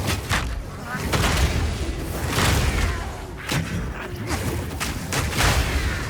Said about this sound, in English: Bonebreaker explosion with the Herald of Ash.